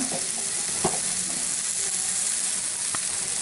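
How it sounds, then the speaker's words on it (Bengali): Beef curry cooked without oil, with turmeric added, is stirred in a pan: a steady hissing sizzle with occasional sharp scrapes and clinks of the spoon, close and continuous. "একটু নেড়ে চেড়ে নিচ্ছি এক চামচ হলুদের গুঁড়ো দিয়ে দিলাম"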